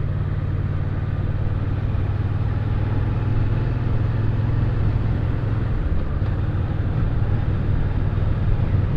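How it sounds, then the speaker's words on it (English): A Moto Guzzi V9 Roamer motorcycle engine runs with a steady, low mid-pitched drone at constant speed, smooth and continuous with a faint hum of road noise around it. "The engine has a nice noise to it, but it's not loud at all."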